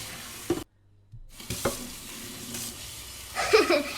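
Indomie instant noodles stirred in a pan over a stove flame, with scraping stirs, a brief gap, then a burst of sizzling frying near the end, close and moderately loud.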